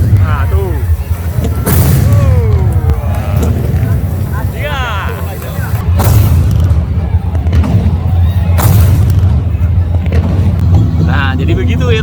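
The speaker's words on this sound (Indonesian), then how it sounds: "Ini tuh penyulutan meriam. Nah, ini kayak gini bunyinya ya." Ceremonial meriam cannons are fired along the Kapuas River in Pontianak, several deep booms breaking out at intervals over a busy riverside crowd while someone talks nearby.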